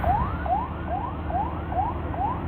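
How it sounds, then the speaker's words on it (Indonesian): An ambulance siren wails on the road during a family ride toward Pangandaran, rising whoop sweeps repeating about every half second, loud and close over engine and road rumble. "Ada ambulan guys, ada ambulans, jadi kita harus ngalah ya guys, harus diprioritaskan ambulans ya."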